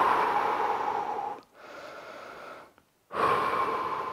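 Heavy breathing during a rest break in a home fat-loss workout, two long loud stretches of gasping, panting breaths near the mic, separated by a short quiet gap and a near-silent pause before the last burst.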